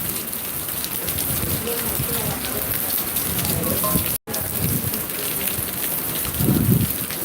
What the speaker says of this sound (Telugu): కొద్ది కొద్దిగా వర్షం అయితే తగ్గుముఖం పడుతుంది